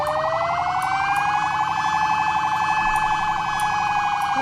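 Police and emergency vehicle sirens in the Flashing Lights driving game wail loudly and steadily, their tones slowly rising and overlapping, with faint repeating clicks above them and no talk.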